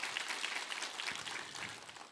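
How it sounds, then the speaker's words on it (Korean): Congregation applauding together during a church worship service, a steady wash of many hands clapping at even loudness throughout, with no voices over it. "함께 힘찬 격려의 박수 한번 부탁합니다."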